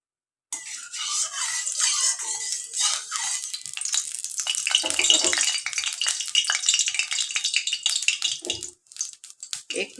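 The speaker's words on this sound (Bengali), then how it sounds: "এই মাছের ডিমটা ভেজে নেব।" Fish roe frying in hot oil in a pan, a loud steady crackling sizzle with sputtering pops that rises and fluctuates throughout.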